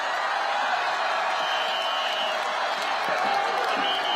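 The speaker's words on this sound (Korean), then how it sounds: "함성과 박수 보내주시기 바랍니다." Crowd cheering and applause at an outdoor political rally, a dense, continuous roar of voices and clapping with faint whoops rising above it.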